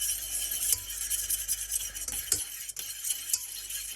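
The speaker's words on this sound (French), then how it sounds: "on va verser notre mélange et on va mélanger" A starch mixture is stirred into a boiled fruit coulis in a pot, giving soft continuous stirring with a few light utensil clicks against the pan.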